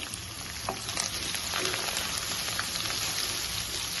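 Small onions and curry leaves frying in oil in a pan, giving a steady, soft, continuous sizzle with faint crackles, heard close and with no talking.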